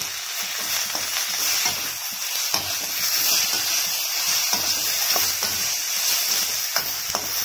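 Prawns that were washed with turmeric and salt fry and get stirred in a pan for prawn thokku. A steady, loud sizzle hisses close by, broken by frequent light scrapes and taps of the spoon, and no one speaks.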